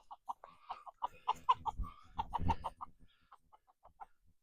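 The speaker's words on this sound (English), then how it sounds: "Roosters running around with a dog and semi-hot pursuit." Roosters cluck in quick, scattered bursts as they run about, a dog chasing them. Fairly close and clear, with some rustling movement in the middle and no talking.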